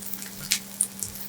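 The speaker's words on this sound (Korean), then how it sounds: "기름이 부족하면 기름을 두르고 반대쪽도 골고루 익혀 맛있는 색깔을 내주고" A rice paper seafood pancake with scallions fries in a pan of oil, giving a steady sizzle with a few sharp pops and spits.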